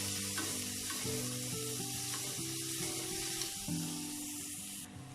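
Onions sauté in a hot pan for a chutney, giving a soft steady sizzle and frying hiss, with a few light stirring scrapes and a low background hum.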